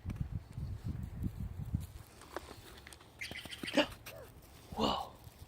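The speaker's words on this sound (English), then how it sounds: "Do you hear a bird?" A wild bird calls from up in a tree outdoors in April snow, a few short chirps standing out faintly after low footsteps and rustling near the microphone.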